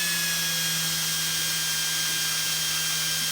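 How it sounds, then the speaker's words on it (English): A spinning tool whines steadily as it polishes a Pinewood Derby car wheel, a constant high-pitched motor hum with no pauses and no voices. "we're not trying to sand the wheel, we're really just at this point trying to polish it"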